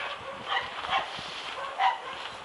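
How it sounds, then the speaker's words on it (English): Dogs barking and yipping in short bursts at a moderate distance, mixed with background noise. "These dogs are really not liking me today"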